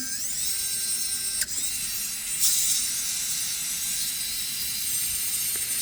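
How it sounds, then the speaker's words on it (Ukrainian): An electric nail drill bit spins steadily during a manicure, giving a thin, continuous high whine close by, with a couple of brief clicks and a slight change in pitch partway through. "Ой, в мене фреза крутиться."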